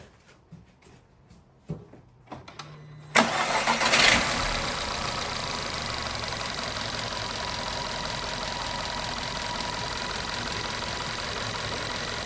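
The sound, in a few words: VW Golf Mk6 engine starting and running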